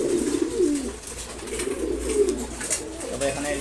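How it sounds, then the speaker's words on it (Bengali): A mated pair of domestic pigeons coo softly while feeding at morning mealtime, with low, rolling coos close by under a general hum of other birds and some background voices. "একসাথে জোড়ার কবুতর এরা।"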